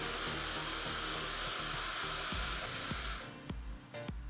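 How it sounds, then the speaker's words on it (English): A hair dryer blows a steady broadband whoosh over a ponytail misted with hairspray, then cuts off, leaving a few faint clicks and handling sounds. "mist that with hairspray and then softly blow dry."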